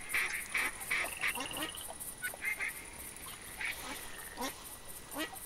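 Repeated duck calls sound in theHunter Classic during a duck hunt, a run of nasal quacks and honks in short bursts with brief pauses, close and fairly loud, no talk over them.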